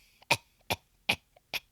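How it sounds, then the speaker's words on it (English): Four sharp coughs in an even rhythm, each followed by a short throaty catch, loud and close with no other sound, in a classic horror film scene. "I cough."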